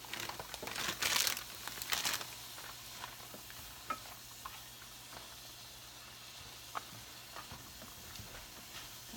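Sugar snap peas hitting a hot pan for beef ramen, with a quick burst of crackling sizzle early on, then a soft, faint frying hiss broken by scattered small clicks and stirs.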